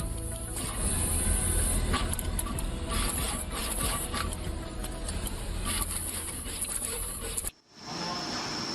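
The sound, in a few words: pick and place machines assembling a PCB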